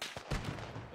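Grenade explosion in ARMA 3 during a Normandy infantry assault, a short deep blast with a sharp thump near the start followed by rumbling battle noise, brief and moderately distant.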